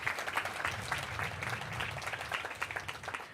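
Applause from an audience at a ribbon-cutting ceremony for a new middle school, steady dense clapping from many hands lasting throughout, moderately loud with no talk over it.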